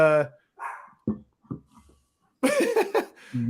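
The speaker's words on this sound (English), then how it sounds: "And you hear my dog in the back?" A dog barks a few times in the background of a room, short sharp woofs between bursts of a man's speech.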